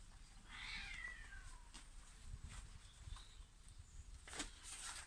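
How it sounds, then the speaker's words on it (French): Cats fighting outdoors, a high yowling wail followed by short hissing and scuffling cries, moderately distant against steady background noise with some rustling. "il y a une bataille de chat là."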